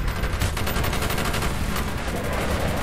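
Enemy gunfire in Call of Duty Black Ops rattles in rapid repeated bursts, a dense continuous fusillade of automatic shots filling the scene with no talk.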